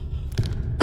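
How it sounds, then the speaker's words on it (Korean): A girl coughing, two short close bursts within a second over a low background hum. "이놈의 기침은 내가 와도 지랄이야"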